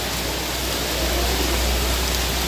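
Steady, dense rainfall hissing evenly throughout, loud and continuous with no voices.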